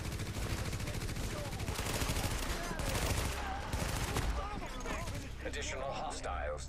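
Rapid gunfire from weapons in the video game Tom Clancy's The Division, dense bursts of shots layered over constant game noise and effects, loud and continuous throughout.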